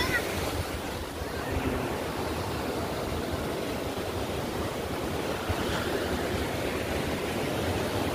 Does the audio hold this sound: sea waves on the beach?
yes